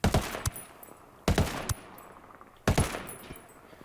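MK-17 rifle fire in Ghost Recon Wildlands, three sharp, loud shots spaced about 1.3 seconds apart, each followed by a short decaying echo tail.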